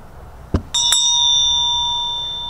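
A Buddhist temple bell is struck once with a short knock, then rings out in a clear sustained tone that slowly fades. It is close and loud, with no talk.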